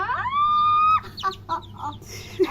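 A chicken lets out one drawn-out, rising squawk up close, followed by a few short, choppy clucks.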